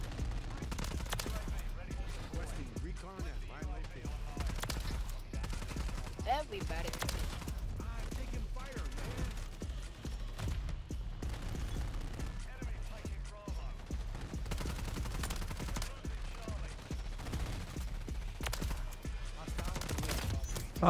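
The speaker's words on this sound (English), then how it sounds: "They're just shooting down my freaking heli now." Rapid gunfire from Modern Warfare 3 multiplayer, aimed at a helicopter, crackles in dense, steady bursts throughout, with someone talking over the shooting.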